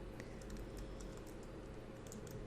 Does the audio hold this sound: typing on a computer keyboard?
yes